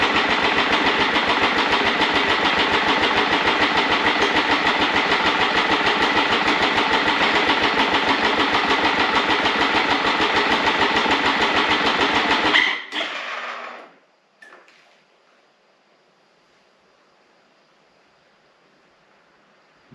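A small engine fitted with an adapted exhaust baffle runs loud and steady for about twelve seconds, then cuts out abruptly, splutters briefly and falls to near silence. No voices.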